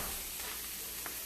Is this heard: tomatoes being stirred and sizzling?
yes